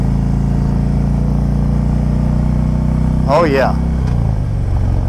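Exhaust pipes on a Harley-Davidson Street Glide rumble loudly and steadily at close range while it is ridden, with a deep continuous drone and someone talking briefly over it.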